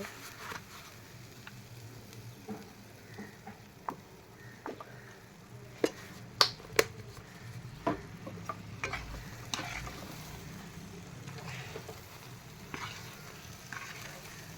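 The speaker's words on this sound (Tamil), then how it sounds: "நல்லா கை விடாமல் கிண்டி விடுங்க" A spatula stirs pirandai thokku in a pan with sesame oil, a steady soft sizzle of frying paste under scattered sharp clinks and taps of metal against the pan, some louder knocks clustered midway.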